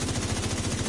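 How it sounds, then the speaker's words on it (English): Rapid automatic gunfire in The Division 2, a steady fast rhythm of bursts filling the whole second at moderate, close range with no talk over it. "Was that gunfire?"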